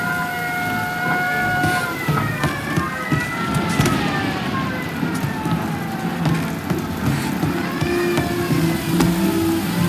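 Police siren wailing in the video game Mafia: Definitive Edition, a loud rising-and-falling tone layered over car engine rumble and revving, continuous and close throughout.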